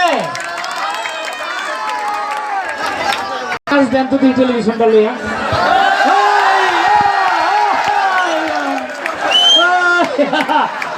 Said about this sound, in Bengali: তার জন্য জুড়ে একটা করতালি হবে